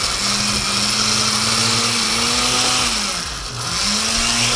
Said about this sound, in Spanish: sacar la licuadora y poder licuar este adobo